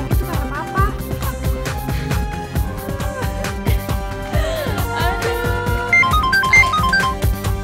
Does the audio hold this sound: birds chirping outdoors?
no